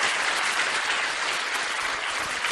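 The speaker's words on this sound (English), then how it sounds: "So the sound of your clapping will tell me how effective the session was." Sustained applause from an audience at a school orientation programme on value education, a dense, steady wash of many hands clapping at even loudness throughout, with no talk over it.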